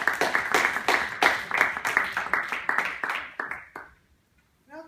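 Applause from a small audience after a presentation, a few seconds of brisk, close rhythmic clapping that thins out and stops, followed by a brief voice.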